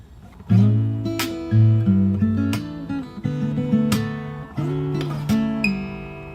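Fingerstyle acoustic guitar plays the last two bars of the verse of a song. Plucked bass notes and chord tones come at a gentle, even pace, close and clear, with no talking.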